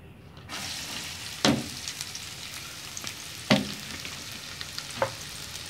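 Onions fry in ghee for sarson ka saag with a soft, steady sizzle, and a few sharp scrapes and clinks come as the pan is stirred.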